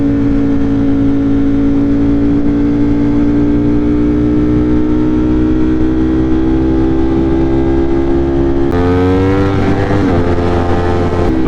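A tuned motorcycle with more than 200 horsepower accelerates hard and loud, its engine note climbing steadily in pitch, then dropping sharply after a gear change before rising again.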